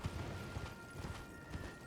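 Steady clip-clop of a horse's hooves while riding across terrain in Elden Ring, a regular rhythmic trot of soft thuds heard up close against a low ambient background.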